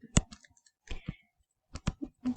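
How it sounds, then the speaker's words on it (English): Laptop buttons pressed by accident give short bursts of clicks and soft taps, close and uneven, in scattered clusters with quiet gaps between them. "I keep hitting buttons from my laptop"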